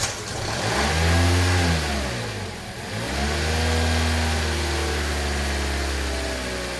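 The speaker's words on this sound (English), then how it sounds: "Now it is going to idle funny at the beginning because we're messing with the little flapper" A 2011 Toyota Corolla engine with an intermittent misfire runs steadily, its low hum surging, dipping briefly near the middle, then settling back into a rough, uneven idle with no talk over it.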